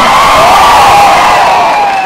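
Audience in a cinema hall at a film's platinum disc celebration clapping and cheering, a loud sustained wash of applause and shouts with no gaps.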